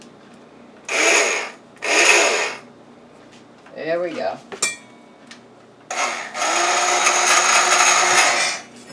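An electric mixer, turned on in a bowl, breaks down salmon for a salad sandwich with loud, gritty whirring in two short bursts, then a longer steady run; a voice speaks briefly between bursts.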